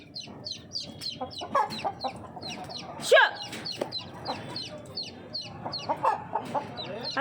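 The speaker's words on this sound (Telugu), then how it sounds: "ఈ కోళ్ళు తన్నుకుంటున్నాయి" Chickens fighting in a yard: repeated clucks and squawks from several birds, with a sharp loud outburst mid-way, close by and lively, while people talk faintly in the background.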